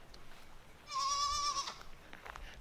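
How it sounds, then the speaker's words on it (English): A goat bleats once, a single close wavering call of about a second against quiet outdoor background. "let's go check out these goats."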